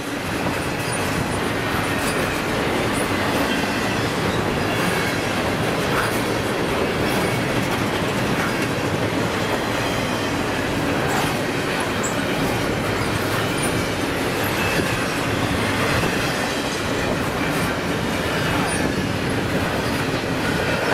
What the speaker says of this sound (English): As the last car of Q231, the Autorack and the Nemola combination, goes by our cameras